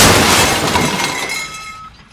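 A backhoe cabin door crashes in with a loud burst of shattering glass, the shards ringing and tinkling as they fade away over about two seconds, with no voices.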